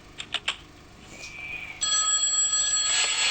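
A telephone rings inside the horror video game Eyes: a few quick clicks and a brief tone, then a loud, steady electronic ring that runs on continuously with no talking.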